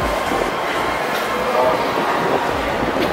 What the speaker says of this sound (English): That's the train that goes to the city.